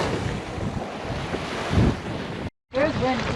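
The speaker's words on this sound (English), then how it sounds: "There's wind." Wind gusting over a sailboat on open water off Nova Scotia, a steady broadband roar with wave wash, briefly cut off near the end before resuming.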